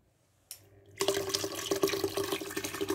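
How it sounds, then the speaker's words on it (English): A small water pump in a home automation setup switches on after a brief click, then runs with steady gushing and splashing water close by, continuing to the end. "Water pump on."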